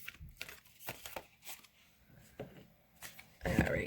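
A Wild Unknown Animal Spirit card deck is clumsily shuffled by hand, giving irregular soft riffles and slaps in short bursts, with a louder flurry of card noise near the end.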